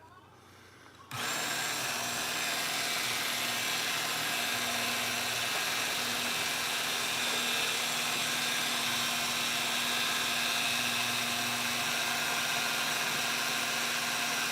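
A belt grinder with a 6,000-grit polishing belt works on a forged kitchen knife. After a quiet second the motor kicks in with a loud, steady high whine that holds unbroken to the end.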